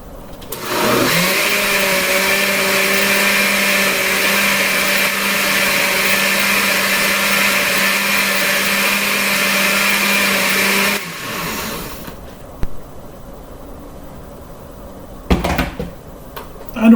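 A blender whirs steadily for about ten seconds, pureeing vegetables into a homemade copycat V8 vegetable juice, then cuts off, leaving a quiet room with a few light knocks and clatters.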